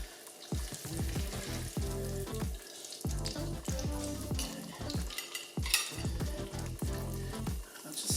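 Butter sauce sizzles steadily in a frying pan with repeated scraping and stirring strokes, close and continuous, no talking.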